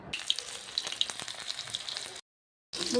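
Cornflour-coated paneer pieces fry in hot oil, a crackling sizzle with scattered pops that cuts to silence briefly before resuming.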